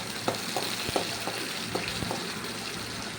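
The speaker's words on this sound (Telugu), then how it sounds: "ఇప్పుడు మనం ముందుగా కట్ చేసి పెట్టుకున్న ఆనియన్స్, వేసి ఒకసారి కలుపుకోవాలండి" Chopped onions sizzling in a pan with curry leaves for chicken curry, a steady close crackle broken by soft scraping stirs about every half second.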